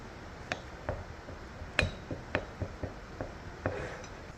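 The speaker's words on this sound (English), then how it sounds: "I'm going to take my spoon or my crushing tool, and I am just going to take it and crush it down very finely" Spoon crushing broken pressed powder makeup, milling it finely, giving sparse, faint clicks and taps spaced about half a second apart against a quiet background.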